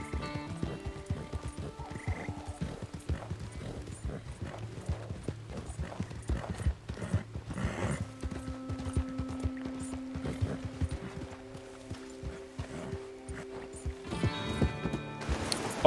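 Horse hooves clip-clop in Red Dead Online, a steady rhythmic trot of mid-loud hoofbeats with ambient game sounds behind them and no talking.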